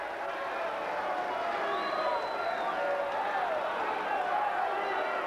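Crowd at a 1999 ECW wrestling match between luchadors Super Crazy and Super Caló applauding and murmuring in a continuous steady wash, with a commentator talking over it.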